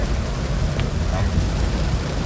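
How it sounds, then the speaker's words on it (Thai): Heavy rain pours onto a car at night, a dense, steady roar of drumming on the body and glass that holds constant throughout. "ตอนนี้ฝนตกหนักมากนะครับ"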